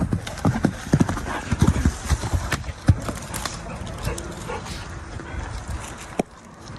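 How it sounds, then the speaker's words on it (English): A horse moves near dogs outdoors, its hooves clip-clopping in a quick uneven run of thuds with a brief whinny, while dogs whimper faintly and a person talks over it. "the title of this video is Horse Kicks Tree, Farts on Dogs, Then Runs Away"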